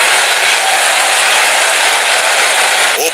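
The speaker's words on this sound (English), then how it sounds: "Openers walking in and the crowd cheering in anticipation" Broadband crowd roar at an India vs Pakistan cricket match as the openers walk out, a dense, sustained wall of cheering and applause from a large stadium audience, steady throughout with a slight dip at the very end.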